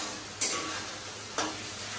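Shol fish curry frying and being stirred in a pan, a steady low sizzle with two brief scraping stirs of the spoon.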